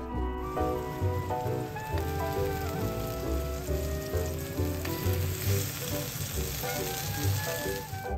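Lightly salted eggplant slices sizzle in a pan, a steady frying crackle under a layer of melodic background music with a thumping low beat throughout.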